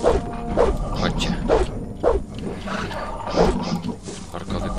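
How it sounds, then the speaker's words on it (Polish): An orc dog from the video game Gothic growls and snarls in several loud, rough bursts over a busy in-game background. "Orkowy pies."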